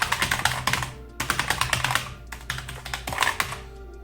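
Bursts of rapid clicking keystrokes on a mechanical gaming keyboard, loud and close, arriving in quick clusters separated by brief pauses.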